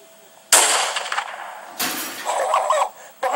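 Shotgun blasts ring out during a hog hunt outdoors, with two sharp loud reports a little over a second apart and a third starting at the end, with rustling and noise between shots.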